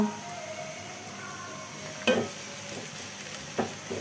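Onions frying in a frying pan make a soft, continuous sizzle at low level, broken by two brief scraping stir sounds, with no talking.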